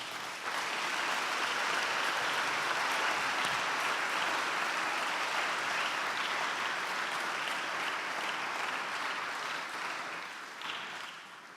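Audience applause at a family seminar: dense, steady clapping from a crowd that holds strong for about ten seconds, then thins and fades toward the end.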